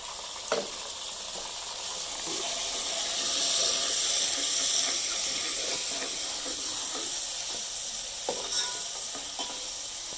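Ginger garlic paste sizzles loudly on fried onions in a pan, with a steady hiss that swells in the middle and brief clinks of stirring near the start and end.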